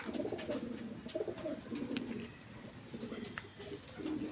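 Pigeons coo in low, rolling murmurs under a busy outdoor background, with faint scattered chirps and rustling around them.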